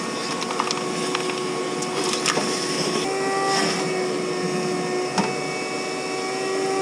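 A vacuum cleaner whirs steadily up close cleaning a Jeep interior with the carpet removed, its motor pitch shifting slightly as it works, with occasional light knocks.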